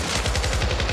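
A quick, close burst of rapid automatic gunfire in the video game Syndicate, a dense run of punchy shots packed into under a second.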